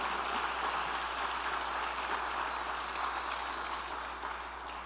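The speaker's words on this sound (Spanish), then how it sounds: "Vamos a darle fuerte ese aplauso al Señor" A church congregation applauds during a sermon, producing a steady, dense wash of clapping that holds at an even level for the whole stretch, with no voices rising above it.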